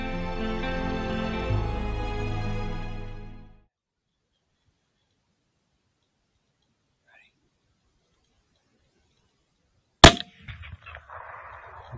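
A single loud gunshot fired at a red fox during a hunt rings out sharply after a stretch of near silence, following a low rumbling start, with faint rustling and handling noises trailing after it.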